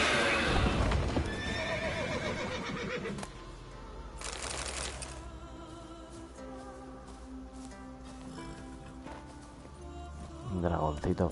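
Roach, the horse in The Witcher 3 on PS5, neighs loudly at the start, and then its hooves clop steadily in a gallop under a voice speaking.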